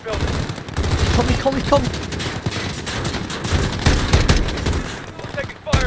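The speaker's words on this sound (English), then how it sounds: "We're taking fire from the residence." Loud, continuous automatic gunfire and scattered shots in a Call of Duty: Modern Warfare campaign compound battle, with rapid bursts overlapping throughout and a brief spoken word in the middle of the fighting.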